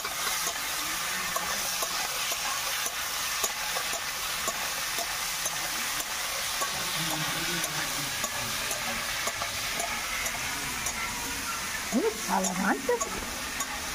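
Ginger and garlic paste frying and being stirred in a pan for a fish curry, a steady close sizzle with scraping stir strokes throughout and a few louder spatula knocks near the end.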